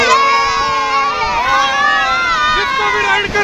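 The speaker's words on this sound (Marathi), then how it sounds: "आवाज पण ह्याच्यामुळे निघतोय कारण ते पाणीच इतकं थंड होतं ना, पाणी उडताच आपोआपच माणूस ओरडून उठेल" A group of rafters screams and shouts loudly as ice-cold river water splashes over them while rafting in the Shimla–Kullu area. Sustained, overlapping cries rise and fall across the whole stretch, close by.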